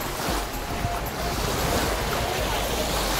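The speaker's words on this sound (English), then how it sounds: "we're here at Banal Beach. This is what we see right now" Waves at Banal Beach in Coron, Philippines: a steady wash of surf and breeze roaring continuously, with wind buffeting the microphone throughout.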